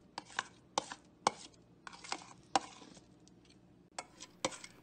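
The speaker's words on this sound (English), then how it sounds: "Now she's going to crush it with a spoon." Steamed butternut squash, very soft, being crushed and mashed with a spoon, giving a series of sharp, close knocks and taps against the bowl at an irregular pace.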